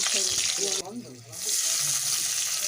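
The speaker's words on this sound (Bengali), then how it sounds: "ওই তেলে ফোড়নে দিচ্ছি জিরে ফোড়ন আর দিচ্ছি চেরা কাঁচা লঙ্কা" Cumin seeds and slit green chilies sizzle in hot oil left from frying fish, a loud, close, steady hiss. A voice speaks briefly as the sizzle dips, then the frying surges back.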